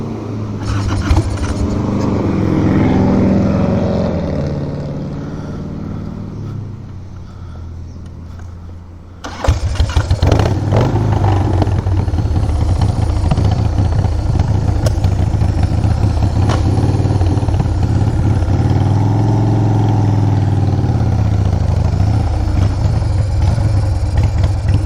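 A Harley FXR motorcycle that won't run cranks and sputters at a gas station, then catches and settles into a loud, rough, steady idle close by.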